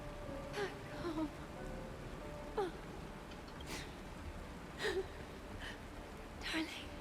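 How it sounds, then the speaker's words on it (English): Steady rain falling in the video game Honkai: Star Rail, a soft continuous hiss heard fairly faint under short vocal sounds and gasps from game characters. "This is the sound of rain."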